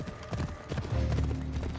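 A horse's hooves clip-clop at a steady walking pace in Assassin's Creed Odyssey, close and fairly loud, over a low game music or ambience bed.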